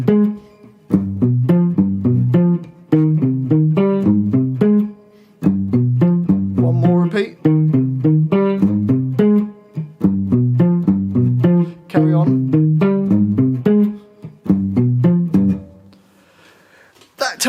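An electric guitar plays the chorus of a song as a repeating rhythmic riff of low chords, looping in phrases of about two seconds, loud and close, before a brief trailing strum at the end.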